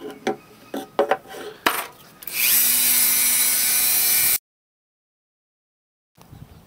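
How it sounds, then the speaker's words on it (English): A Dremel rotary tool drills deeper into a part so a Schrader valve can seat, for a homemade boost leak tester: a loud, steady high whine for about two seconds after some handling clatter, then it cuts to silence. "I got a Dremel tool which will drill in the depth for me."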